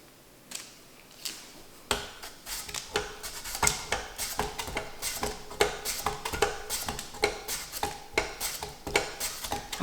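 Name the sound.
knife slicing potatoes for Potatoes Anna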